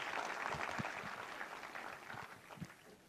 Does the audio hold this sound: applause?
yes